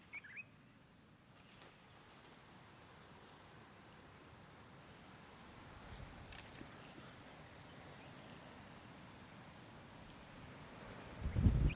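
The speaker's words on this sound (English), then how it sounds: "Seems like there's some wind rolling in." Steady wind blowing across open African wilderness, a continuous low rushing and rumble that grows stronger toward the end, with a faint insect chirp in the background.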